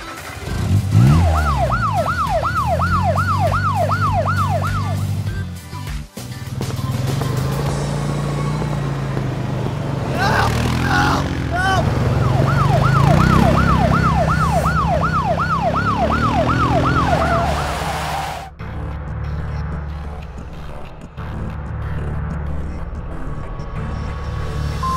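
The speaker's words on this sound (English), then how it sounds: "police car." A police car siren wails loudly and up close, sweeping up and down in repeated cycles over a rumbling engine, with a pause and changes in pattern before the siren cuts out and quieter traffic noise remains.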